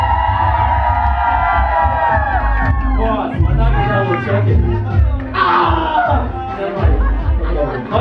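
A dancehall battle crowd shouts and cheers on cue in bursts, loud and close, with chatter and whoops between the calls.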